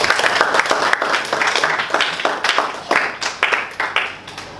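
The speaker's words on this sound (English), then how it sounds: "So, a round of applause to your club president." An audience at a Toastmasters evaluation session applauds their club president, with brisk, dense clapping at the start that thins into scattered, separate claps as it tapers off.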